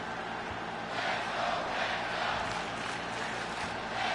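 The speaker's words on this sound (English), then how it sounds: "As you can tell, this crowd is pulling for Penta." Wrestling crowd in the video game WWE 2K26, a steady wash of cheering and murmuring arena noise that swells slightly in waves, continuous and moderately loud with no clear voices standing out.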